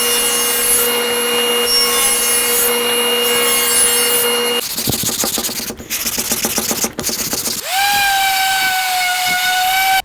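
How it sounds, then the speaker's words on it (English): A power saw cuts successive back-cut slices into a wooden cabinet door panel stood on end: a loud high whine, then rough buzzing cuts broken by short pauses, then the blade spinning freely again. "we're going to do a back cut by standing our panel on end and making successive slices until we bring down where it has a 1/4 inch tongue"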